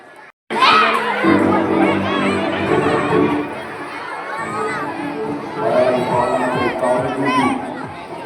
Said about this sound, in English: Let's welcome our patriotic performance with a huge round of applause.